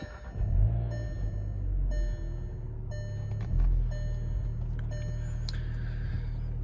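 A 2019 Volkswagen GTI SE with a six-speed manual cranks and fires up in neutral, settling into a steady low idle. The start is loud and close, and a second swell of revs follows midway before the idle levels off.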